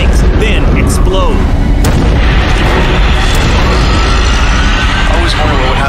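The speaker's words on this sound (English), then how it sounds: "Heat from the flames causes the volatile liquids and gases to expand in their pressurized tanks, then explode." Pressurized tanks of volatile fuel and gas burst from the heat of a fire, giving a loud, sustained rumbling roar of blasts and booms with sharp cracks, while a voice speaks over them.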